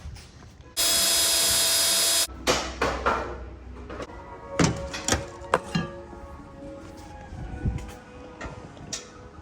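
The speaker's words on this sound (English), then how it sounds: "I'm going to have to drill that bad boy out" A power drill whines steadily for about a second and a half drilling out a rusted bolt on a Jeep Cherokee, then a series of sharp metallic knocks, taps and clanks from tools working on metal.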